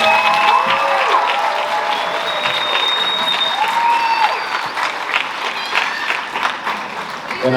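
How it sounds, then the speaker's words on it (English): A high school spring concert audience gives sustained applause, dense clapping with scattered whoops and tonal cheers over it, loud at first and slowly thinning over seven seconds. "let's have one more big round of applause"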